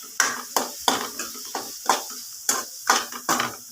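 Egg fried rice with soy sauce being tossed over high heat in a pan, a steady series of about ten close scraping stirs with a light sizzle underneath.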